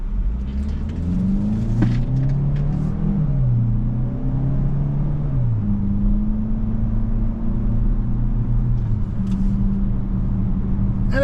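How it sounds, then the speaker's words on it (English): A 2025 Chevrolet Equinox RS AWD compact SUV accelerates steadily, its engine note rising and shifting under a continuous road and cabin rumble, heard from inside with no talk. "And it gets up to speed just fine, no problem."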